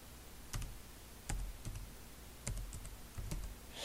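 Typing on a computer keyboard, with a handful of sparse, distinct key clicks close by over a faint steady hum.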